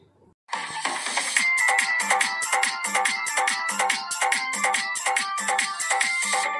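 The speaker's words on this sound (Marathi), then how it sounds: "फोन आला ना मले, तिकडे वाजवा" A mobile phone ringtone for an incoming call, a loud repeating electronic melody that starts abruptly after a brief moment of quiet and keeps looping close by.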